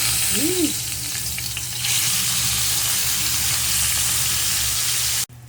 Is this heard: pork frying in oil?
yes